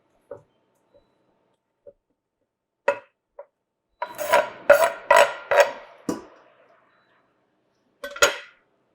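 A spatula scraping and stirring onions and garlic in sunflower oil in a pan, starting with scattered clinks and taps, then a burst of several rasping strokes, and finally one last scrape.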